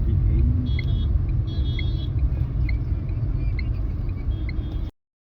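Car driven along a road at night by a first-time driver, giving a steady low rumble of engine and tyres with faint higher whines, continuous for about five seconds before cutting to silence.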